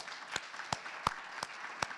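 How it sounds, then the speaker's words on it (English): Brief, sparse clapping from a small audience at a panel on offshore wind innovation, a handful of separate claps spaced through two seconds, fairly faint. "let's just give Corey a round of applause"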